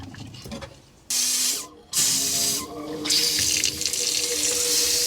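Water gushes from a camper cargo trailer's sink tap being run during winterizing, starting abruptly with loud hissing bursts that briefly cut out and then flow steadily, with faint mechanical clicks.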